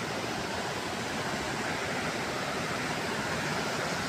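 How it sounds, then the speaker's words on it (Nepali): A river rushes below a railing-less bridge near the Kali Gandaki A hydropower dam at Mirmi, Syangja, as a steady, dense roar of flowing water that holds constant throughout. "यतापट्टि खोला बग्यो"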